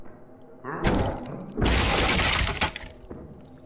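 Glass shattering in the horror video game Darkwood: a loud sudden crash of breaking glass, then a second longer burst of shattering with scattered tinkling fragments, and a few softer thuds as it dies away.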